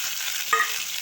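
Tomatoes sauté in a pan after garlic, a steady soft sizzling hiss with one brief scrape or stir knock in the middle, alone and without talk.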